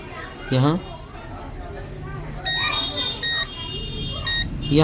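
Multimeter continuity beeps while probing coils on a circuit board under repair, several short sharp electronic tones in quick succession, heard under someone talking and background chatter.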